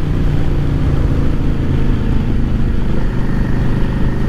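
Yamaha XVS650 V-Star 650 cruiser motorcycle with 4-inch fork extensions out on a test ride, its engine a steady, loud low drone with continuous road and wind noise and no clear revving peaks.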